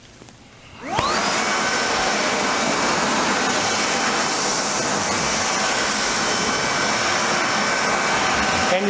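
A NaceCare RBV 150 backpack vacuum cleaner switching on, its motor rising quickly into a loud, steady high-pitched whine that holds without change, close and alone.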